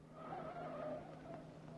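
A car pulls up with its tires skidding, a faint squeal and engine noise rising and trailing off over a couple of seconds at a low level.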